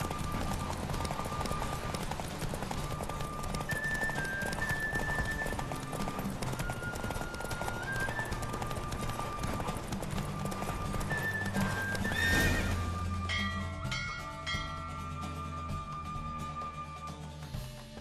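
A horse gallops hard in The Witcher 3 during a race, rapid clip-clop hoofbeats under game music, with a whinny and a sharp shift near the end as the pace breaks off.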